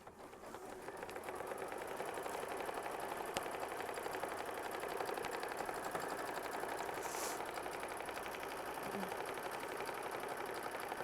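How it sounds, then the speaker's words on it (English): A sewing machine stitches fabric for a quilt block, its rapid, even whirr starting softly, then running steadily and close for the rest of the stretch. "sew this next step, which is machine stitch step 19"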